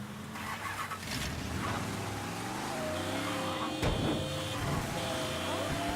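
Car engine in the video game Mafia III turning over and settling into a steady idle, close and fairly loud, with a brief sharp knock near the middle and faint voices underneath.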